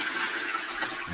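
A toilet flushes close by, a brief rushing gush of water that fills the whole moment alone, with no talk over it.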